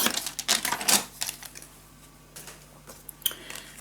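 Paper is cut with scissors or a trimmer for a scrapbook mini album, producing a quick series of close crisp snips and rustles, then softer handling and a last sharp click.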